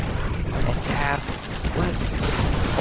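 Gatling tanks open fire in the strategy game Command & Conquer Generals Zero Hour, a dense, continuous mechanical rattle of rapid shots that stays loud and unbroken throughout.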